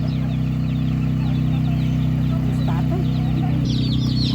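Chickens and young chicks cluck and cheep at a livestock market in Otynia, Ivano-Frankivsk region, under a loud steady hum, with overlapping calls near and far and a burst of higher cheeping toward the end.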